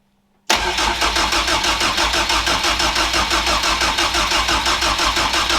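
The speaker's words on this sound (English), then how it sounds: "I'm going to crank it over to get some oil pressure in it." Engine of a Mk2 Ford Escort Mexico, freshly fitted with an upgraded unit, cranking over on the starter without firing. The whirring, rhythmic churn is close, loud and steady and keeps going after a sudden start, with no voices.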